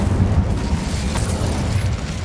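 An Incendio fire spell blast in Hogwarts Legacy: a loud, close whooshing boom with a rumbling, fiery roar that keeps burning and slowly fades.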